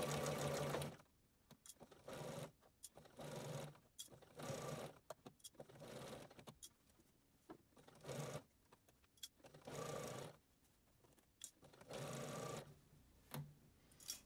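Sewing machine stitching fabric for a surgical cap around a tight curve, running in short bursts with frequent stops and restarts, close and fairly quiet, with no talking.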